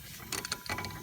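Metal clicks and ratcheting clanks from a pipe wrench working loose a tight tie rod on a 2006 Nissan Sentra, a few sharp close taps in a short burst with no talk.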